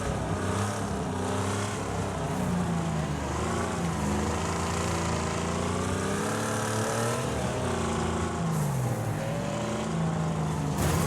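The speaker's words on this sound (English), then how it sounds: "It sounds like a damn chainsaw or a weed eater more than a car." A video game car engine revving with a buzzing, wavering whine much like a chainsaw or weed eater, rising and falling in pitch continuously and loudly with no break.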